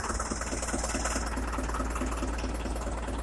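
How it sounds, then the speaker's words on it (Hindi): Tractor engine running steadily at around 1810 RPM for PTO work with a multi speed and reverse PTO, a constant close mechanical drone with a rapid rhythmic knock and no talking. "1810 RPM तक इंजन इसका घूमेगा।"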